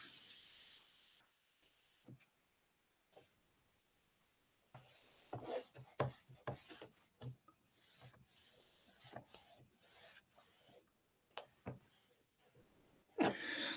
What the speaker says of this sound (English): I'm going to rub this out